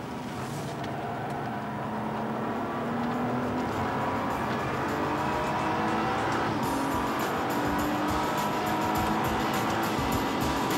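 A Nissan GT-R sports car driving on a race track during testing, its engine note rising and shifting steadily with tyre noise, loud and continuous throughout with no talking.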